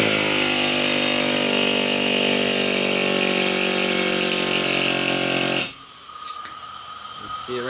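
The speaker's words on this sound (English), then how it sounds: "you can use an air hammer like this" A loud, steady pneumatic air hammer drives a lower ball joint into a Ford F-150 suspension, rattling continuously at close range for several seconds, then cuts off abruptly, leaving quiet room noise with a few small clanks.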